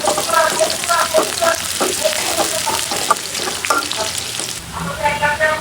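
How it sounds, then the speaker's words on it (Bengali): Chopped onion for okra bhaji crackles and sizzles loudly in hot oil close by. Stirring clatters over the frying, which briefly drops off near the end before the crackle returns. "এখন হচ্ছে ভেন্ডি ভাজিটা করে করে ফেলবো দিয়ে দিলাম পেঁয়াজ কুচি"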